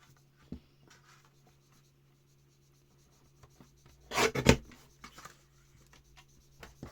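Card stock for a hidden journal card sliced in one brief, close scraping swipe midway through an otherwise quiet stretch, with a faint tap near the start and no talking.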